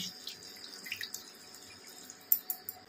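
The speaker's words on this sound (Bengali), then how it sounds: "এবার আমি এর মধ্যে জল দিয়ে দিচ্ছি," Water poured from a cup into a cooking pot of Punjabi chicken masala gravy with fried spices, a faint, steady trickle with a few soft splashes near the end, and no talking.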